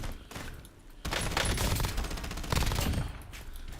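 Heavy automatic gunfire in an Xbox Cloud shooter video game, rapid continuous bursts rattling close and loud for several seconds, starting and stopping abruptly, with no talk over it.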